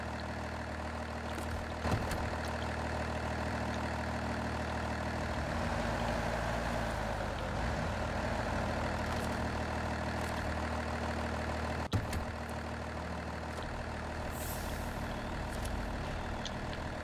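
An old Dodge truck idles in the Snowrunner game at Smithville Dam, a steady low engine rumble holding throughout with slight shifts in tone and a brief clunk partway through.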